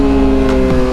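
Loud, close, steady drone of a Kawasaki ZX6R motorcycle engine with an M4 exhaust, heard in a brief one-second burst.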